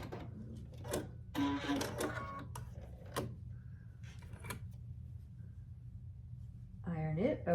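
A home sewing machine stitches quilt block pieces together with a quarter-inch seam, short bursts of motor whir and needle clatter, quiet and close, with pauses between runs.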